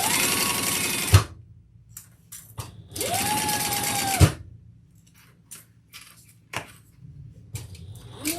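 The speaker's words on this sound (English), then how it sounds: "Sew this together, and then we can move on." A sewing machine stitches fabric together in two loud, close runs of rapid mechanical stitching, each a few seconds long, with quieter handling clicks and taps of the material in between.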